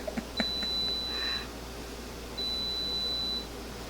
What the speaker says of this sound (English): The beeping is the oven over there